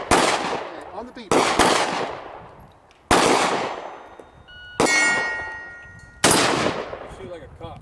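An AR rifle fires five widely spaced shots at a 10-inch steel plate 15 yards away, each a sharp crack with a ringing metallic clang, loud and close outdoors.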